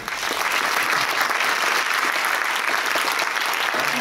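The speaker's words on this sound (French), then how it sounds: "Applaudissez-la." Audience applause at a French political gathering welcoming a lawyer to the stage, a steady dense clapping that holds at full loudness throughout without letup.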